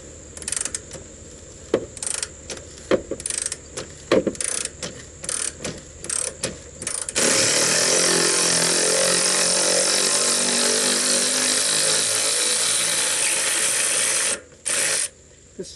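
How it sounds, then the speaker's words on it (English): A power drill drilling out a rusty bolt whirs in short stuttering bursts, then runs steadily for several seconds at a high, grinding pitch before stopping briefly and starting again. "I'm gonna have to drill this one."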